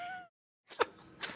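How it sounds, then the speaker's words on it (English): A single short sneeze, quiet and close, with a brief breathy intake followed by a sharp burst after a moment of silence. "I have to sneeze."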